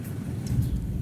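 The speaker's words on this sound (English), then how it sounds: "a storm is brewing in the sky." A low, rumbling roll of distant thunder from a storm gathering overhead, a brief continuous growl with no talking.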